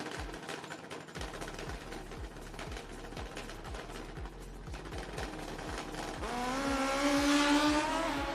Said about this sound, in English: It's a drag race.